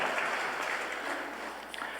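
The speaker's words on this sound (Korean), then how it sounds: "박수 환영합니다" A Sunday worship congregation gives soft, distant applause welcoming new members, a thin, steady wash of clapping heard from across the sanctuary, faint and without speech.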